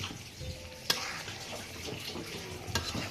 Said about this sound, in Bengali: আর হচ্ছে রোস্ট রান্না করছি।